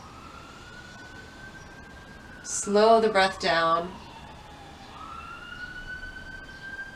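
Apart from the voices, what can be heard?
ambulance or police siren passing in the street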